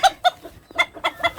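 A bantam chicken clucks in a rapid series of short, bright notes, close and clear in a backyard flock, with no talk over it.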